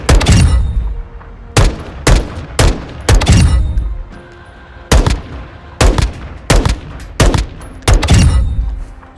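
M4 assault rifle in Modern Warfare 2 firing full-auto bursts, about nine or ten sharp loud volleys in quick succession with short pauses between, each burst ending in a booming tail, no voices.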